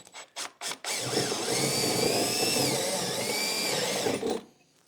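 A DeWalt 12-volt drill drives steadily for about three seconds at a moderate, fairly even whirring pitch, preceded by a few short trigger bursts and ending as the motor winds down.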